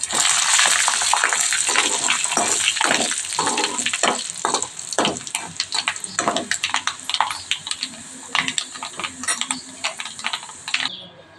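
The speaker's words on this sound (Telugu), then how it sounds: "దీని పప్పులో పోపు వేసినానండి" Hot tempering with asafoetida, fried in two spoons of oil in a small pan, poured into vegetable dal, giving a loud burst of crackling sizzle that tapers into scattered pops and bubbling as it settles.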